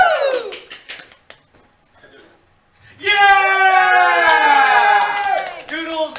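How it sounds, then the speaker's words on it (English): An audience at a live-streamed game show cheers on contestants attempting a tree pose, with loud whoops and shouts swelling after a quieter stretch, while a host talks over it. "Let's cheer them on, everyone."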